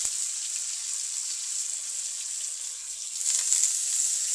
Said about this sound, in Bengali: আজকে বিরিয়ানি রান্না হচ্ছে এত পেঁয়াজ লাল হয়ে গেল